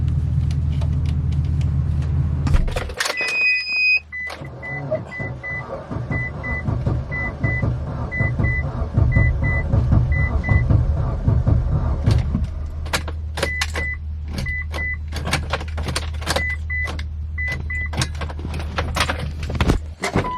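A Mitsubishi Lancer Evolution VIII with a weak battery rumbles low at first, then dashboard chimes beep in repeated bursts while the starter churns unevenly through the middle and the tone returns near the end.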